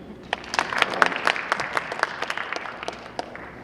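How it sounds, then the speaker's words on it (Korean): Audience applause at a 2018 fintech keynote session in a conference hall, a steady patter of many hands clapping close to the stage for a few seconds. "박수 한번 쳐주십시오."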